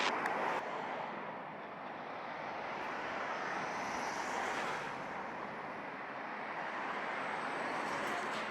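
A jet airliner lands on runway 07 at Montego Bay, Jamaica, in a 15-knot wind, heard as a steady, fairly faint and distant engine roar mixed with wind noise.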